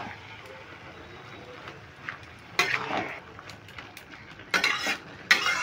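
Shredded cabbage is stirred and mixed with spices in a pan, with no water added. A spatula scrapes in soft bursts, and a few louder clanks and scrapes land toward the end over a quiet background.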